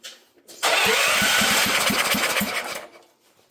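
A generator engine with a seized motor cranks loudly and fast in steady rhythmic pulses for about two and a half seconds without catching, then winds down. No one speaks.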